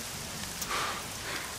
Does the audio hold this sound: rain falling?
yes